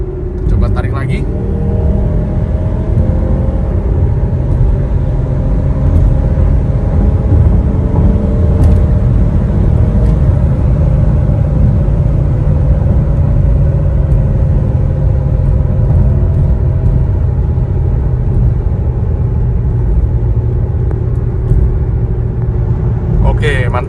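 A 2018 Mazda CX-9 accelerates smoothly, heard from inside the cabin as a steady, deep engine rumble mixed with road noise that holds throughout.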